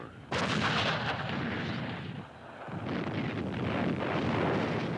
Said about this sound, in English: The opening salvos of the most widely debated battle of the Vietnam War.